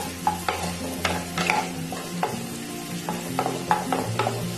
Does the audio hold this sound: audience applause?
no